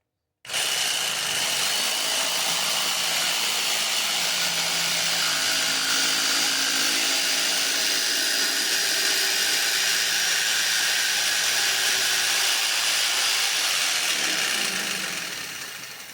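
A power tool, likely a drill, whines steadily as it bores out an eye opening in a wooden Punisher skull, running loud and continuous for about fifteen seconds before easing off.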